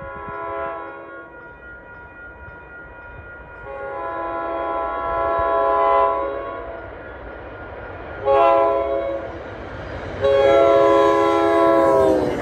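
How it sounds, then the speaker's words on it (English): Keolis commuter train 2208, with cab car 1649 leading and GP40MC locomotive 1134 trailing, sounds repeated loud multi-tone horn blasts that grow closer, over a low rumble of rolling wheels. "Here's Keola's 2208 with cab car 1649 leading and GP40MC 1134 trailing."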